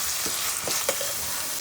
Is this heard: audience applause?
no